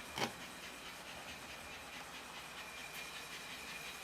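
Small American Flyer HO scale steam model locomotive hauling a very long train, a faint continuous running hum and rattle of wheels on track with one brief louder clack near the start.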